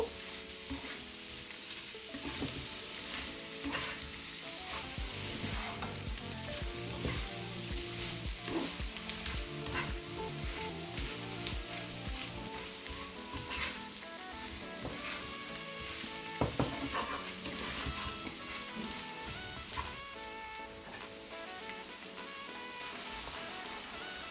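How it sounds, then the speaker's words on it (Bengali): Prawns sizzle and fry in a hot pan while being stirred, a steady close crackle with repeated scraping strokes of a spoon throughout, no voices. "এখন আমি চিংড়িগুলো দিয়ে দিব। দিয়ে দিচ্ছি। ভালো মতো মিলিয়ে নিব।"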